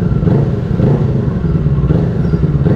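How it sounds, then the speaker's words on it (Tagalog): A Kawasaki Eliminator 450 motorcycle with an aftermarket exhaust idles close by, a steady low burbling rumble with a slightly uneven pulse. "Ito ang tunog ng aftermarket exhaust."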